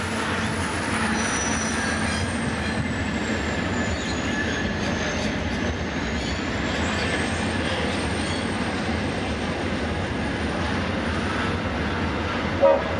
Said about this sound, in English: goods train leaving the siding off Sunshine